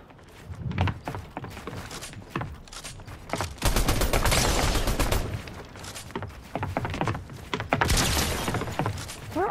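Video game gunfire in rapid, dense bursts, loud and close, with shattering crashes mixed in and short pauses between volleys, running almost the whole time with little speech.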